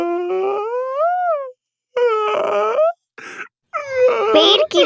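A magic tree cries in an animated Hindi story, a voiced wailing and sobbing in several drawn-out, rising and falling bursts separated by short pauses, loud and close.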